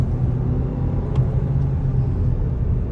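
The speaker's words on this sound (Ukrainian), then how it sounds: "Автомобіль їде прям дуже хорошо, да?" Steady low rumble of a Skoda Octavia 4x4 driving, heard from inside, with road and engine noise holding even throughout and a faint tick or two.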